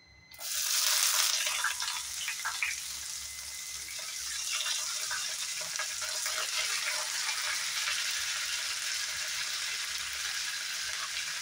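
Onions sizzle and fry steadily in a hot pan for a dhaba-style chicken masala, a loud burst of hiss at the start settling into continuous crackling without any talk.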